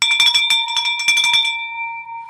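A bell rings out to celebrate a property going under contract in High Point, North Carolina, with rapid repeated clangs for about a second and a half, then a long bright ringing tone decaying alone.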